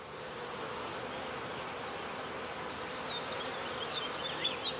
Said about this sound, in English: now I'll get these bees back to our backyard where they belong